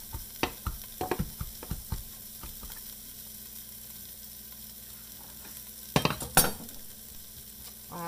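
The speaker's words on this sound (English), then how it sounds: "So I'm just going to let it do what it will in the stirring process." Butternut squash being stirred in a frying pan, a faint steady sizzle with a series of soft scraping knocks from the spoon early on and a brief louder clatter near the end.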